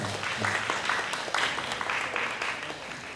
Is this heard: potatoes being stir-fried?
no